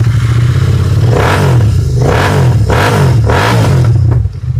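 A 2022 Royal Enfield Continental GT 650 with its 650 cc twin engine revs up close at a used-motorcycle market, four loud throttle blips rising and falling over a throbbing idle before cutting off.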